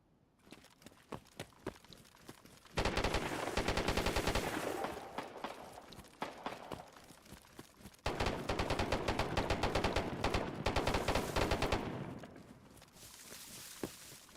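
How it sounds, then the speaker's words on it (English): Bursts of rapid automatic gunfire from another player in DayZ, arriving in two long sustained volleys after scattered single shots and footsteps, moderately distant and fairly loud. "it's Ray shooting"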